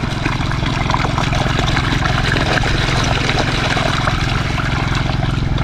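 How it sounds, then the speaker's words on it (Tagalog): A strong stream of water pours steadily under pressure, loud and constant throughout, with no voices. "Malakas na yung tubig namin"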